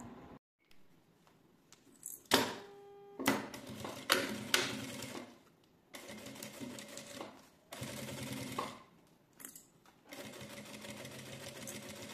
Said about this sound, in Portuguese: nós vamos fazer a costura dessa lateral e dessa lateral